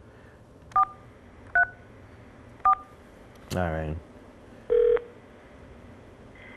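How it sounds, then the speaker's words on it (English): Telephone keypad dialing beeps sound as three short, evenly spaced tones, followed by a burst of ringback and one more longer tone, clear and close over a quiet line, with a brief spoken word by a man. "We are live as I dial the phone."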